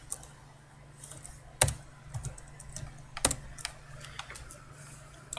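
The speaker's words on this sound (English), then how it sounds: "you need to type this in" Keystrokes on a computer keyboard tap out at irregular intervals, with two sharper, louder clicks standing out among softer scattered taps over a low steady hum.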